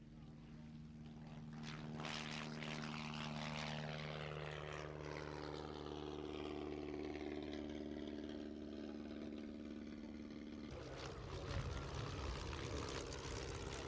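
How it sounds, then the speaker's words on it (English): A military Auster light aircraft flies past at an air display: a steady, droning propeller engine holds for the whole stretch, with its pitch shifting slightly as the plane passes, and a louder change near the end. "A new highlight on the display scene is the military Oster flight."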